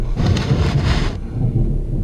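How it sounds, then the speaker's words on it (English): A big thunderstorm sends a deep, loud rolling rumble of thunder over a wash of heavy rain, with the hissing rain dropping away partway through. "We've got storm, big time storm."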